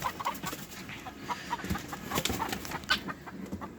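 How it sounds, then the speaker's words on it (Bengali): Chickens clucking steadily together in a coop, a dense busy chorus of short calls at moderate level with no talk over it. "এগুলো হচ্ছে আমাদের মুরগিগুলো"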